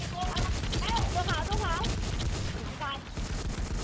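Rapid bursts of video game gunfire crackle through a shootout, layered with excited player voices and in-game chatter throughout.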